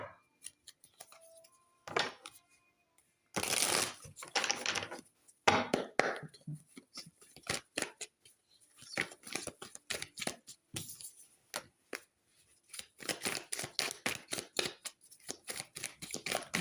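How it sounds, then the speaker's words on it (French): Tarot cards being shuffled, with a quick run of dry papery flicks and riffles in irregular bursts and short pauses, close and fairly soft, with no talking. "je vais tirer quelques cartes du tarot"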